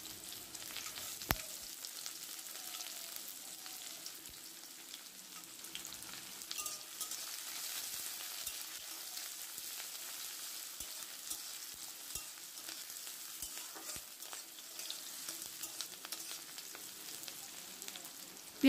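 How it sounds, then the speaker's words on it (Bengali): Onions for egg fried rice frying quietly in a pan, giving a soft continuous sizzle with occasional light clicks and taps from stirring, faint and without talk. "এরপর দিয়ে দিচ্ছি পেঁয়াজটা, পেঁয়াজটাকে একটু ভেজে নেব"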